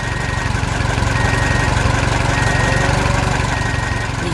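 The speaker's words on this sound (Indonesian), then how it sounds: "Lihatlah, traktor kuning dan trailer biru bekerja keras." A yellow farm tractor's engine runs steadily up close, a loud, continuous rumbling chug with a fast, even pulse and no talking.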